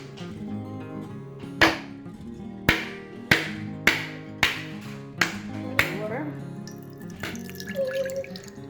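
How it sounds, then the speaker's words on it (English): A fresh coconut being cracked open: about seven sharp, hard knocks spaced roughly half a second apart, close and loud, followed by softer rustling and a trickle of liquid, with a voice heard faintly in the background. "So we are going to try and open the coconut. It's not going to be that easy, but we will crack it open."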